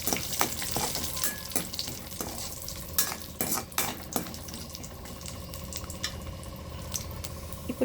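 Cashews frying in hot ghee in a pan, a steady close sizzle with stirring clatter and scrapes of a utensil throughout, no voices.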